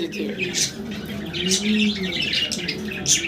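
Pigeons kept for sale, large birds of about a kilogram each, including Andalusian and black birds, give repeated short chirps and calls close by over a steady low murmur.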